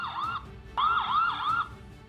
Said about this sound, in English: the siren activates